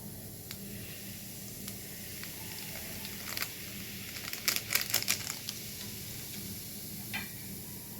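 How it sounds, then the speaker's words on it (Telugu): Eno powder fizzes on greasy gas stove burners, a soft continuous hiss with crackly bubbling that swells briefly in the middle, faint and close, with no talking. "జిడ్డుగా బురిగ్గా ఉన్నాయి కదండి ఇంకో ఇన్నో ప్యాకెట్ కూడా వేస్తున్నాను"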